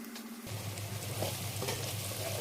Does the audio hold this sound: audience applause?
no